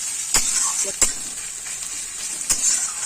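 Green chili frying in hot oil, a steady bright sizzle throughout with a few sharp crackling pops, close up and fairly loud.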